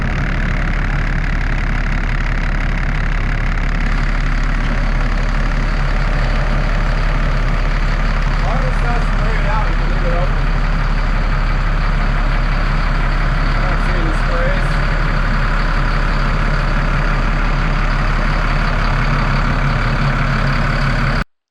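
A steady, loud Caterpillar C7 diesel engine in a 2006 Freightliner XC chassis RV drones continuously at idle, a low rumbling hum with no breaks throughout.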